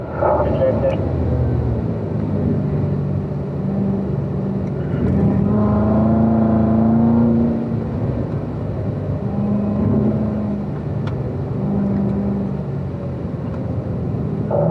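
A race car engine drones continuously as it laps a road course, its pitch rising and falling through gear changes and corners, steady and loud, with someone talking over it.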